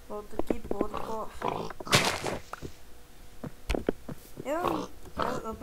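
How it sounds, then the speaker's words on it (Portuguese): A pig in a survival video game grunts and oinks in short bursts while a person talks and plays over it. "Olha, um monte de porco."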